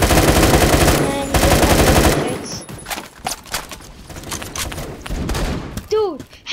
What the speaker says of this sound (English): how with the shotgun was he shooting me from all the way over there?